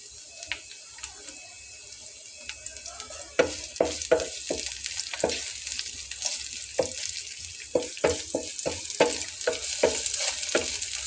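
Chopped onions frying with cumin seeds in a pan for a Bengali tiffin recipe, a steady close sizzle broken by repeated scraping and stirring clicks, growing busier partway through, with no talking.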